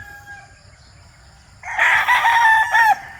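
A gamefowl stag rooster crows loudly and close, one long strained call rising out of quiet background for about a second and a half and ending abruptly.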